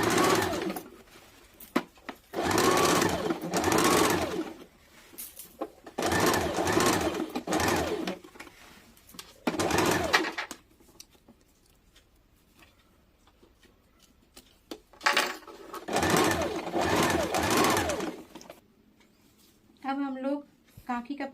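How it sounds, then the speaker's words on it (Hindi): A sewing machine runs chain stitches along a strip on a baby umbrella frock, whirring in several bursts of a few seconds each with quiet pauses between, close and fairly loud, with a brief bit of other sound at the end. "अब पट्टी को बाहर तरफ रख के इसमें चाप सिलाई चला लेंगे।"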